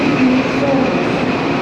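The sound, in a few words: train arriving at station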